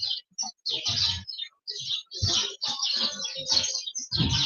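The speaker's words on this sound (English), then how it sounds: "Listen to them birds." Small birds chirp and tweet outdoors on a spring morning, bright rapid calls in bursts with short gaps between them, close and clear, no voices audible.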